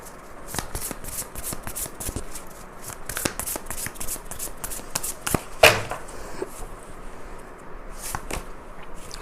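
Tarot cards being shuffled and drawn during a Hindi reading, a steady run of crisp riffling card flicks and slaps with one sharper snap near the middle, close and fairly quiet, no talking.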